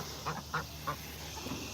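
Hand-hatched ducks give four or five short, nasal quacks at an even pace, moderately near, over a steady outdoor background hiss.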